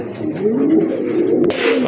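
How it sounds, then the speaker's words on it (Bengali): A pair of Lokkha pigeons coo softly and continuously, a close, low rolling murmur lasting throughout, with a brief rustle near the end. "চমৎকার এক জোড়া কবুতর"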